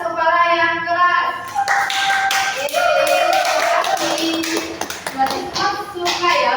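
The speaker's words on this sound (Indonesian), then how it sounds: "Kalau kalian suka belajar hari ini, tepuk tangan di atas kepala yang keras." Schoolchildren in a classroom clap their hands loudly above their heads, a burst of quick, overlapping claps and taps with scattered young voices and some shuffling mixed in.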